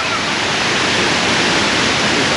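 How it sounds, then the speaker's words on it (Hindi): Water pours continuously down the sides of the 9/11 Memorial fountain at the World Trade Center, a dense, even roar of falling water with no break. "यहाँ से इन्होंने साइड से, अच्छा साइड से आबशार की तरह पानी गिराया हुआ सेंटर में"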